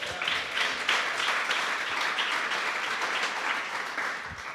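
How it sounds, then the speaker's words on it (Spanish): Steady applause from a church congregation fills the space for several seconds, a dense wash of many hands clapping at moderate loudness, with no clear speech over it. "¿Alguien le puede dar aquí un aplauso al Señor o no?"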